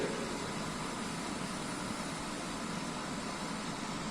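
An epicyclic gear train test rig running at several hundred RPM gives a steady, even mechanical whir and broadband hum, constant in level and heard alone.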